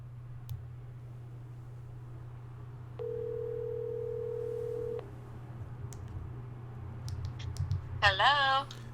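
A telephone call is placed: a steady dial tone sounds for about two seconds, quiet keyboard clicks follow, then a warbling ringback tone rises near the end, all over a low electrical hum.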